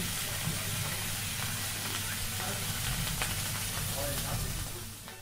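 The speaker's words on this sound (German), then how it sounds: "Wie lecker das sein kann, hört man schon am Brutzeln in der Pfanne." Food sizzling in a frying pan at a village gathering serving regional specialties from the Hochwald, a steady dense hiss and crackle that holds throughout with faint voices underneath.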